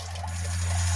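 Water runs steadily through an off-grid on-demand hot water heater, a constant close rushing flow with a low steady hum underneath, heard alone.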